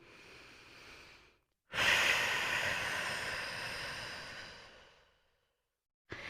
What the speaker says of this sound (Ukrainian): Гарний подовжений видих через рот, а вдих через ніс.